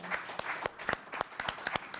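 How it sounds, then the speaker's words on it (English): Applause from the audience at a day-one wrap-up session of a planning and architecture event: scattered, sharp hand claps in an uneven rhythm, fairly close and moderately loud, with no talking over them. "So a big round of applause."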